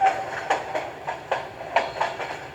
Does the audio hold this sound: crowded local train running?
yes